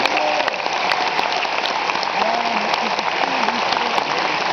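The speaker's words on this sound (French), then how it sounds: "je tiens à ce qu'on les applaudisse" An audience at a 2009 gamers' assembly ceremony applauds in a steady, rain-like patter of many hands, heard at moderate distance, with faint tonal chirps and sharp clicks over it.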